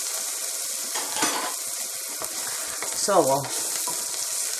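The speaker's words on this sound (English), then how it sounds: "Now you want to stir that so that your garlic doesn't burn." Onions and garlic saute in a pan for homemade barbecue sauce, a steady close sizzle with scraping stirs and a clink of utensil on the pan, under brief speech.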